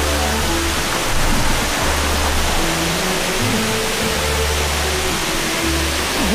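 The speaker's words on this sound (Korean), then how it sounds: "저를 이끈 소리의 정체는 시원하게 떨어지는 폭포수" A waterfall in the desert pours down in a loud, broad, unbroken rush of falling water, steady throughout with a deep rumbling undertone, close and alone without voices.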